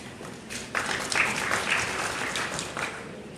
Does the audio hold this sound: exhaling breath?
no